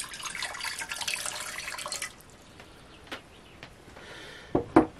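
Water pours steadily into a bowl for sweet bread dough for about two seconds, then stops, followed by a few scattered drips and small knocks in a quiet kitchen.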